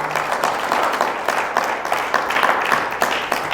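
A church congregation giving sustained, steady applause, many hands clapping together at a moderate distance without a break.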